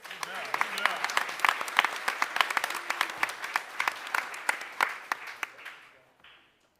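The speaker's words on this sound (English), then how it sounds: "big round of applause for our first place" A small crowd at a school board meeting applauds with sparse, distinct claps for several seconds before the clapping thins out and stops.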